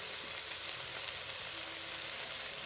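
Carne asada steak sizzles steadily in a hot pan, a close, continuous frying hiss with no talking.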